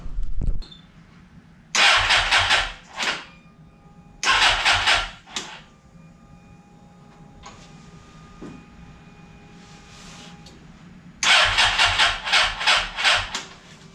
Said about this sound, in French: je finis de remonter et on essaie de démarrer